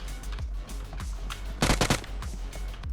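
Gunfire from PUBG Mobile played on a Bedwars-style custom map: a tight burst of sharp shots around the middle, with faint scattered pops before and after.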